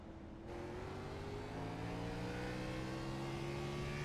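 Race cars in a racing video game accelerate together at the green flag, engines climbing in pitch as one loud, steady, rising drone with no talk.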